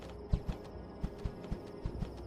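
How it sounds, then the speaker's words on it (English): Horses' hooves clip-clop in a video game, a series of distinct soft thuds in an uneven walking rhythm over a low steady background hum. "Oh shit. Horses."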